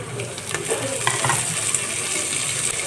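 A tomato dropped into softened frying onion for dal khichdi, a steady close sizzle with a few light clatters and stirring taps, with no one talking.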